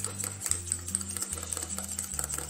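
A spatula stirs a thick homemade makeup emulsion in a container. The scraping strokes are brisk and steady, close up and fairly quiet, with a regular rhythmic sweep and small clicks against the sides.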